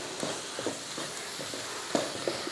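Spices sautéing in a pan for a Tamil-style tamarind gravy, giving a soft, steady sizzle with light scraping and stirring strokes recurring every half second or so, close and fairly quiet, with no talking.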